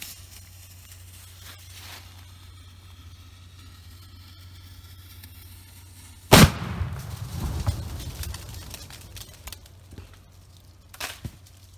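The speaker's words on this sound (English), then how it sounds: "2-inch salute rocket shell versus pumpkin" A 2-inch salute rocket shell firework blasts against a pumpkin outdoors: one sudden, loud explosive crack after quiet birdsong, followed by a rumbling, crackling tail of debris and echo fading over several seconds.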